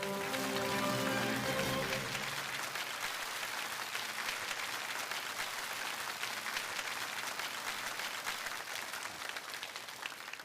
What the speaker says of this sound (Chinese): 掌声有请吕老为我们开讲